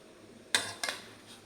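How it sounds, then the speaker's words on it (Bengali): Two sharp clinks of a utensil against a lunch box or pot as cooled pasta is packed away, close and brief, followed by a faint third tap in a quiet room. "এখন আমি বক্সে ভরে দিচ্ছি।"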